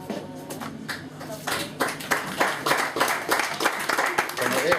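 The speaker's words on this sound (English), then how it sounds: "I'm not sure why you're applauding them" Wedding guests clap at a reception during a best man speech, rhythmic hand clapping that swells in bursts and becomes steady, with voices heard in the room.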